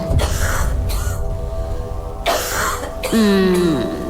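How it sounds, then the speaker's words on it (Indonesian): A woman coughs and clears her throat a few times in short bursts, fairly close, over a steady low background hum. "Lalu terdengar suara seorang perempuan batuk."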